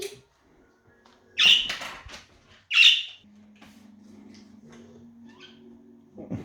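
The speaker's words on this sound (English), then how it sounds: "Oh, the blue and green budgie together." Two sharp, loud squawks from blue and green budgies ring out close by, separated by a second of quiet, before a low steady hum takes over.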